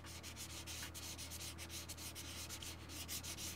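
400 grit sandpaper rubbed haphazardly over a surface, making faint, continuous close-up scratchy sanding with quick repeated strokes and no speech.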